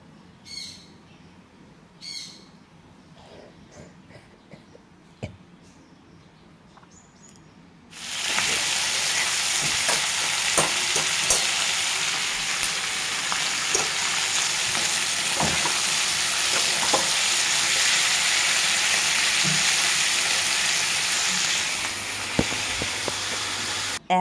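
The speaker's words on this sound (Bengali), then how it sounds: "পেঁয়াজ আর ক্যাপসিকাম একটু নেড়ে চেড়ে একটু ভাজা ভাজা করে" Onions and capsicum frying in a pan for chilli chicken: after a quieter opening with faint bird calls, a loud, steady sizzle starts abruptly and runs on, dotted with soft scraping taps from stirring.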